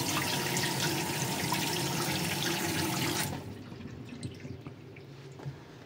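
Water from a tap rushes into a freshly unclogged sink and drains freely, a loud steady gush that cuts off abruptly, leaving faint trickles and drips as the basin empties.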